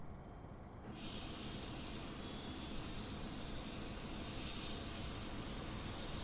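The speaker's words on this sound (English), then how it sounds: "Listen to them engines." Fokker F28 Fellowship jet engines spool up in Microsoft Flight Simulator, a broadband roar that rises sharply after a second and then holds as a steady, loud whine and rumble.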